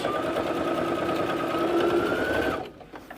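A sewing machine runs a steady back stitch along the edge of a boxy bag, a loud, even whir that cuts off abruptly near the end.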